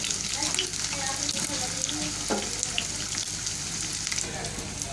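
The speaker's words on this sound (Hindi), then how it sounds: "खूब अच्छे से फ्राई करेंगे, क्रिस्पी से फ्राई हो जाएंगे।" Potato chappli kebabs frying crisp in a pan, with a dense, steady hiss of bubbling oil throughout, close and loud, and a few faint clicks from turning.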